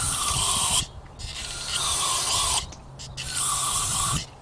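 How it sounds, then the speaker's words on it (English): Aerosol brake cleaner sprayed to flush old grease from a rear brake part on a Chrysler 200, three loud close hissing bursts separated by short pauses. "I'm going to dump it out and then respray it."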